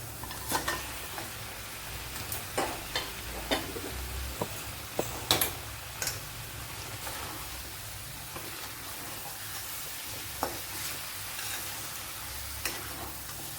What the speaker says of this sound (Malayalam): ഇനി ആ ചിക്കൻ്റെ കഷ്ണങ്ങൾ ഇട്ട് കൊടുക്കാം.